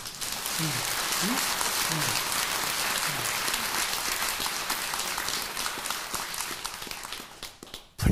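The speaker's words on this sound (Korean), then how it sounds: "그 믿으면 부처님 고맙다고 박수 한번 쳐요." A Buddhist congregation at a Sunday service at Bongeunsa temple breaks into loud, dense applause that carries on for several seconds and fades near the end, with a few brief voices low underneath.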